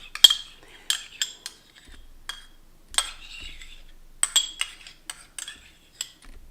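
A metal spoon clinks against a dish or jar while ketchup is added, giving a series of sharp, bright taps and scrapes in irregular bursts, close by with no talking.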